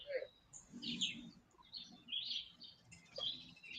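Faint, scattered bird chirps and tweets outdoors, several short calls spread across a quiet background with a low murmur underneath.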